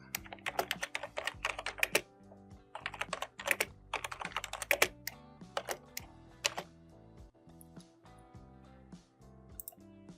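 Code is typed on a computer keyboard in bursts of quick, crisp key clicks with brief pauses between, close and fairly quiet, with no voice.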